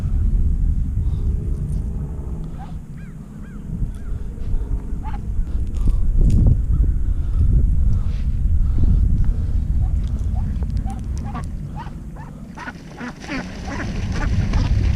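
Ducks quacking and honking repeatedly on a pond, several calls overlapping with splashing and a low outdoor rumble.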